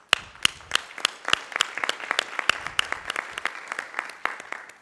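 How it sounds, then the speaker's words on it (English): Applause from attendees at a national advisory committee meeting: distinct, sharp individual claps, moderately loud, quickly building into a steady patter that lasts several seconds with no talk. "join me rather, in giving this partnership team a huge round of applause."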